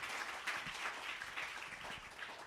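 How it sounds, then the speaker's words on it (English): Faint, distant audience applause for the French ambassador at a media launch event, a soft continuous patter of many hands with no voices on top. "Can we give our ambassador all the way from France another round of applause,"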